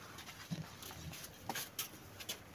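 A dog in hot weather breathes in short, faint, irregular puffs close by, a few soft bursts over quiet background.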